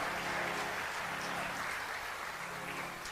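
An audience at a spiritual talk claps in a soft, continuous patter of applause, fairly distant and even throughout, with faint voices beneath.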